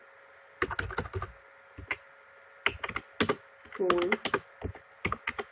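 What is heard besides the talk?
typing keywords on a computer keyboard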